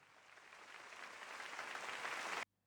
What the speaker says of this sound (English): The water kind of sounds like an applause.